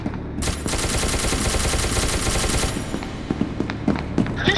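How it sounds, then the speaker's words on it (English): Video game gunfire in SCP: Secret Laboratory: a dense, rapid automatic burst for about two seconds, then scattered single shots trailing off, loud and close. "Tell the Chaos to stop shooting me, we're not fighting."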